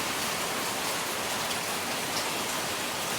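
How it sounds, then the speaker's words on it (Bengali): Heavy rain pours down suddenly on a day that had been sunny, a dense, steady hiss that stays even and unbroken throughout with no voices. "আর দেখো এদিকে কি হারে বৃষ্টি শুরু হয়ে গেছে"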